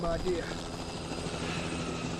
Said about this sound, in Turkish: Helikopterler falan var.